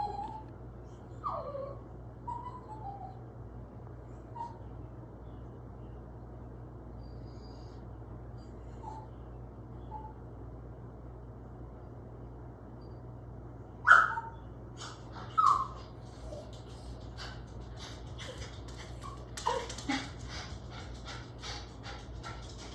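An anxious pet dog with separation anxiety whimpers in thin, high, drawn-out whines, scattered across a quiet room with soft panting underneath and a few sharper whimpers later on.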